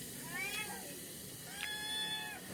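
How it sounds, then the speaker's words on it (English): A cat meows twice, two short clear calls about a second apart, fairly close with soft background noise. "Meow meow."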